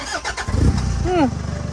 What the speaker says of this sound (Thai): เดี๋ยวจะติดเครื่องให้ฟังนะครับ